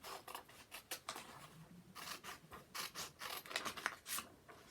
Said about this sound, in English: if I was to get a piece of paper, cut that shape out